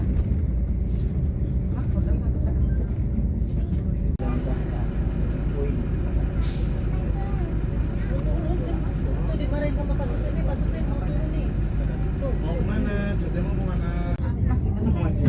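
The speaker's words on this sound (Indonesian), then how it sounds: "Masuk rest area kilometer 19 untuk hitung penumpang bis-bis Sinar Jaya" Sinar Jaya buses pulling into a highway rest area, a steady roar of engines and traffic with occasional air-brake hisses, under continuous background chatter.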